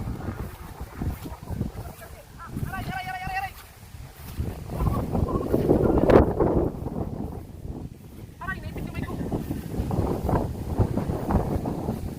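Strong, gusty typhoon wind from Typhoon Carina buffets the microphone in rough surges, with brief bursts of voices breaking through the roar.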